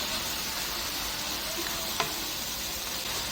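Tomatoes frying in a pan for a milkfish sauce, a steady close sizzle with a brief stir-like click partway through and no talking.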